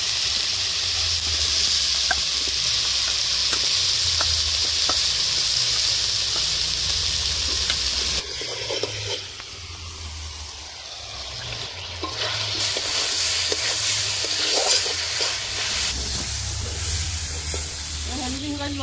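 Potatoes hit hot oil in a Bengali fish curry pan with turmeric and chili, a loud, steady sizzle and hiss that briefly dips, then surges back as the frying continues.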